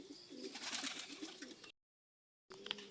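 Racing pigeons coo softly as birds return to their loft after a 107 km race, a low repeated cooing that breaks off into silence and resumes briefly, faint and close.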